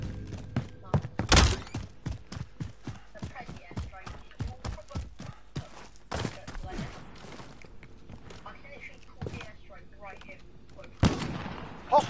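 Airstrike blasts in the Call of Duty Warzone video game arrive as a string of sharp, loud thuds and booms, with heavier hits near the start and end, while players talk over the action.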